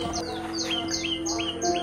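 Birds on Pathiramanal Island in Kerala chirp in a run of quick, bright, repeated tweets, several calls overlapping against a steady low background hum.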